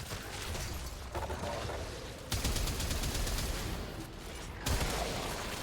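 Sustained, dense gunfire from a weapon emptied in one continuous magazine dump in the Warframe video game, loud and close, with sharp bursts and brief breaks between heavy stretches of rapid shots.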